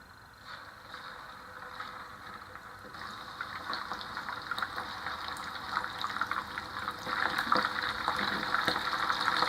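Beef frying in hot oil in a home kitchen, a steady, dense sizzle and crackle that grows louder over several seconds, with no talking.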